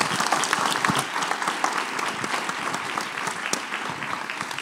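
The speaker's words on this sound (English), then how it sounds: "let's give a big round of applause and thanks to our visionaries." Audience applause for the speakers at a fireside chat event, steady dense clapping throughout, sustained and fairly loud with no speech over it.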